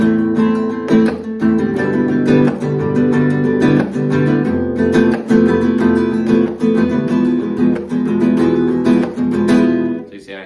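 A flamenco rumba guitar strums a steady, driving chord progression with percussive slaps on each cycle, played loud and close with no talking.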